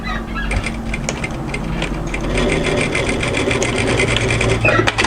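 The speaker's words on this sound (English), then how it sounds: "I'm going to run a line of stitches just to secure it to the overlocking line." A sewing machine runs a short line of stitches down a dress seam to secure the overlocking, a steady close-up mechanical whirr with rapid needle clatter and no talk.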